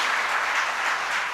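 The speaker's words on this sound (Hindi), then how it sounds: "आप तालियां बजाएं" Audience applause breaks out at a Hindi religious discourse, a steady dense wash of clapping that holds at an even level throughout, with no voices over it.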